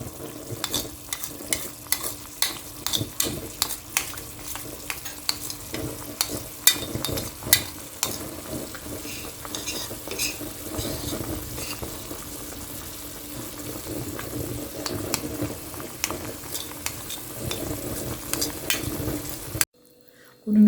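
Batter-thickened soup being stirred in a pot over fairly high heat, a steady run of scraping, swishing strokes with small knocks against the pot, continuous and close, cutting off abruptly just before the end.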